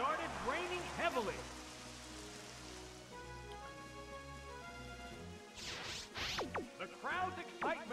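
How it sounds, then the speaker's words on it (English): Heavy rain effect in Pokemon Stadium 2 plays as a steady wash beneath game music and battle sound effects, with swooping tones at the start and the end. "It started raining heavily."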